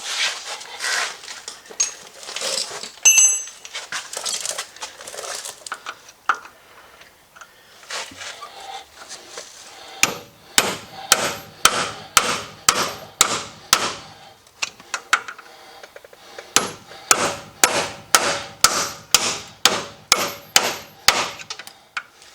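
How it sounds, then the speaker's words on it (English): A punch struck with a hammer to drive out a ball joint rivet on a 1993 Chevy pickup: two quick bursts of loud, ringing metallic blows in a fast even rhythm, up close, with scrapes between and no talk. "I'm going to get a punch and we're going to punch that out"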